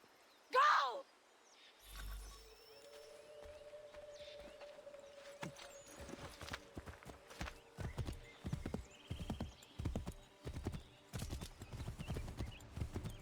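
A horse in the Assassin's Creed 3 video game clip-clops along in quick, rhythmic hoofbeats that grow steadily louder and denser, opening with a brief whinny and a low thump before the gallop builds.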